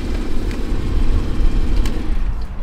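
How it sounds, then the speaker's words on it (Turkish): A 2016 Porsche Boxster Black Edition engine idles at a used car lot, giving a loud, steady, deep rumble with a low whir that stays even from start to finish. "Bak, güzel bir motor sesi de var."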